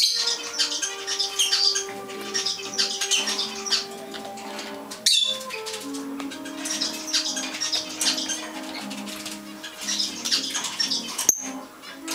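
A Fischer's lovebird chirps and tweets in bright bursts, with brief wing-flapping flurries breaking in, close to the microphone and with no talking.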